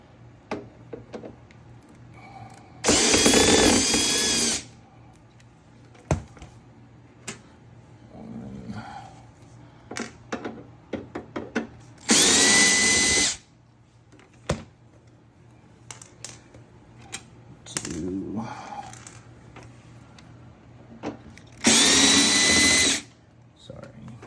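A power drill backs screws out of the top of a Theyer countertop ice maker, three loud whirring bursts of a couple of seconds each, separated by quieter handling clicks, with a person talking between them.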